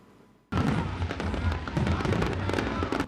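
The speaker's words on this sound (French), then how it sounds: "Sur le coup de minuit, des éclats de feux d'artifice ont animé le ciel depuis plusieurs lieux de la capitale." Midnight New Year fireworks over Abidjan, the capital: after a brief quiet moment, a sudden loud onset of dense, continuous crackling and popping bursts that keeps going without pause.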